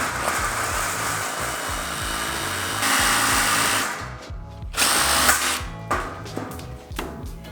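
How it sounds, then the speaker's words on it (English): Power drill grinding through thick 120-wall steel tube on a homemade formula car frame, a loud close whine that strains and stutters, briefly dropping out and restarting near the end. "Doesn't like drilling through 120 wall steel"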